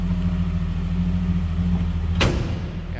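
A 1966 Dodge Dart engine idles with a steady low, even rumble close to the microphone, then a brief sharp burst of noise cuts in near the end before the idle continues.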